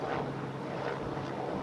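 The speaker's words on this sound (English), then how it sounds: "I think that's a police helicopter." A police helicopter passing overhead near Edinburgh airport, heard as a steady, moderately loud rotor and engine drone with some wind noise across the microphone and no talk.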